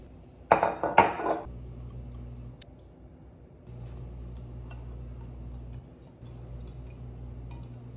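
Metal bread pans are handled in a home kitchen while soured milk bread is being made, giving two sharp clanks near the start, followed by quiet handling and a low background hum.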